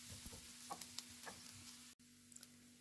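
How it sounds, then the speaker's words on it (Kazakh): Chopped onion fries in oil in a frying pan over medium heat, a quiet steady sizzle with scattered light ticks and stirring clicks, briefly cut off by a short gap before the sizzling resumes. "Жуа саламыз. Сәл қызарғанша қуырып аламыз."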